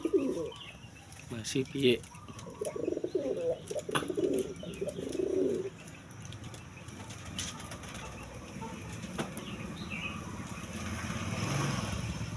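A female racing pigeon coos in several soft, rolling bursts over the first half, then fades into quieter outdoor background, with brief speech.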